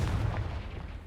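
A Confringo fire spell from Hogwarts Legacy lands as a low, muffled blast with a rumbling body that fades across a single short burst.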